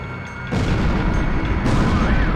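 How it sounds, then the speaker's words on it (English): Bombs bursting in the Ace Combat Zero flight game, a quiet start giving way at half a second to a loud, sustained roll of heavy blasts and booms, swelling again toward the end. "They're just tossing bombs all over the place."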